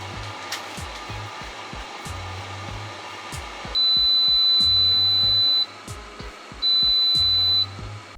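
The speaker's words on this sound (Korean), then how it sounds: "조리 중간에는 이렇게 쉐이크 알람이 울리는데요." An Oku OCC-SF6000 steam air fryer sounds its shake alarm, two long steady high-pitched electronic beeps, loud and close, over the appliance's fan hum and a rhythmic clicking.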